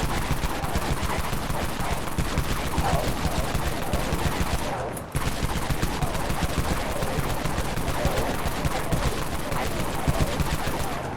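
Rapid gunfire from the Cyclone weapon in the game Dead Frontier, a dense, steady stream of shots lasting throughout with one brief break near the middle, loud and close.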